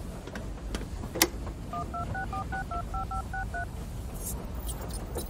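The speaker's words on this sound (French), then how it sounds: "Il faut qu'on appelle James Bond pour vérifier cette théorie" A telephone number is dialed with a quick run of about a dozen touch-tone beeps over a steady background hum, with a few clicks before and after.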